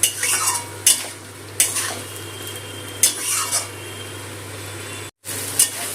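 Whisked sour yogurt stir-fried with spice paste: a low simmering hiss broken by several distinct scrapes and clinks of a metal spoon against the pan, spaced a second or so apart, with one brief dropout near the end.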